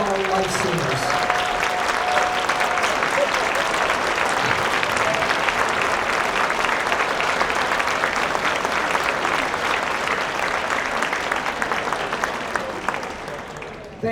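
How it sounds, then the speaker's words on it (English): A concert audience at an honour band performance gives a long, loud round of applause, steady dense clapping that tapers off near the end. "can we all give these amazing human beings a huge round of applause?"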